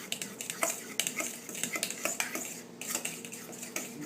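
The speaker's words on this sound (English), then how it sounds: "It's really stirred up good." Low-carb pumpkin pie filling being stirred in a bowl, a quick series of rhythmic scrapes and light clinks of a utensil against the sides, close and moderately soft.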